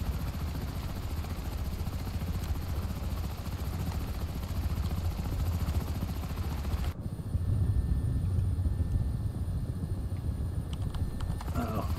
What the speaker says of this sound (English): this helicopter sounds a lot nicer than some of the other ones I have.